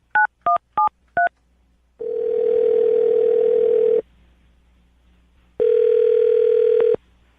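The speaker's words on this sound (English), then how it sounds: "I'm going to dial the phone number right now" Four quick telephone keypad tones beep in a row, followed by two long, steady ringback tones with a pause between them, as an outgoing phone call connects.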